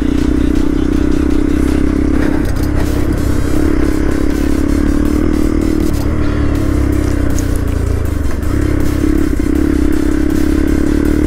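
A motorcycle rides along an open road on a solo Sunday trip. The engine gives a loud, close, continuous drone with rattling wind buffeting, and engine pitch shifts slightly now and then.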